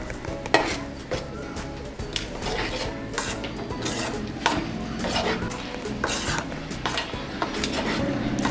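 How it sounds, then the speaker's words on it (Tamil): Coconut filling mixed with cardamom powder in a pan, a close, continuous scraping and rubbing stir with light sizzling underneath, heard alone. "இது கொஞ்ச நேரம் இப்படி நம்ம கலந்து விட்டுடுவோம், நல்லா மிக்ஸ் ஆகட்டும்"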